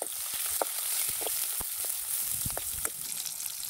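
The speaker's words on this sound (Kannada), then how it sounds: "ಈಗ ಜಜ್ಜಿರೋ ಅಂಥ ಹಸಿಮೆಣಸಿಕಾಯಿ ಏನಿರುತ್ತಲ್ವ ಅದನ್ನು ಹಾಕ್ಕೊಂಡು ಒಂದು ಸ್ವಲ್ಪ ಫ್ರೈ ಮಾಡ್ಕೋಬೇಕು." Crushed green chillies fry in a couple of spoons of oil in a pan, giving a steady, close crackling sizzle with scattered sharp pops throughout.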